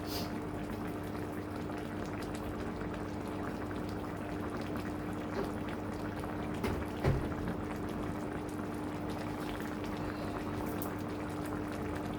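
Thai nam prik ong chili dip simmering in a pot, a steady low bubbling boil that runs continuously at moderate level, with one brief knock midway and no talking.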